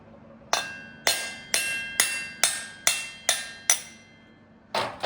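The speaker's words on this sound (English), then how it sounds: "If they're really tight, the hammer will bounce off and it sings." A hammer taps valve guides in a bevel drive cylinder head, giving about ten sharp, ringing metallic strikes at an even pace with a short gap before the last two.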